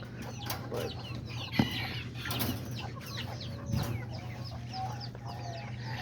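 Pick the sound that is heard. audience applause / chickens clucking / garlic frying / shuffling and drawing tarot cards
chickens clucking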